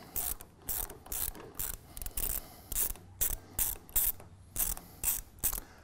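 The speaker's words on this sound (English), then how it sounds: "So you're just going to go ahead and loosen this all the way out and pull this bolt completely out." A ratchet wrench loosening and backing out a bolt on a TigerStop motor, in close, crisp bursts of clicking strokes repeated at a steady rhythm.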